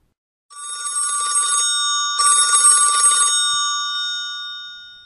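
A telephone bell rings loud and close in two long bursts with a brief gap between them, and the ringing tone lingers and fades after the second burst.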